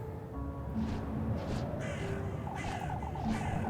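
Crows cawing in a video game, several harsh caws scattered across the clip over a low ambient game background, moderately near, with no speech.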